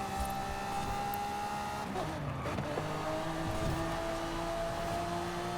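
A race car in Forza drives through a small town, its engine holding a steady high whine, with a brief gear change or braking dip midway, then resuming its drone.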